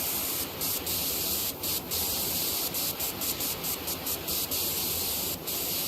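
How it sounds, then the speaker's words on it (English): A small spray bottle in the cleaning game PowerWash Simulator hisses in a steady continuous spray, broken by short rhythmic pauses and bursts as the trigger is released and pressed again. "I'm so proud of my little spray bottle here."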